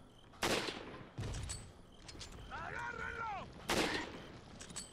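Gunshots ring out in the video game Resident Evil 4. Two loud, sharp blasts are separated by a stretch where a character's voice cries out.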